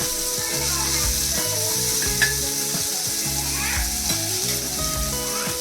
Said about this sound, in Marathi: आपला बांगडा शिजत आला आहे, मस्तपैकी फ्राय झाला आहे